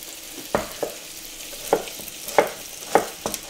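Lardons frying in a pan for tartiflette, a soft continuous sizzle punctuated by several distinct spatula scrapes and taps at uneven intervals.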